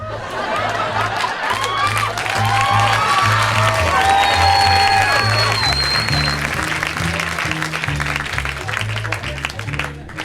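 A comedy club audience at the Laff Stop in Houston claps and cheers steadily, a dense sustained wash of applause with scattered whoops and laughter, while a low rhythmic music bed plays underneath.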